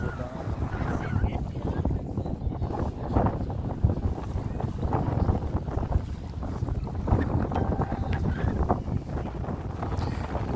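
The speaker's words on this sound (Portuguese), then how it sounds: "Tá ventando, né?" Strong wind buffets the microphone continuously, a loud rumbling roar with gusty flutter throughout, outdoors at Lagoa do Gavião in Lençóis Maranhenses, Brazil.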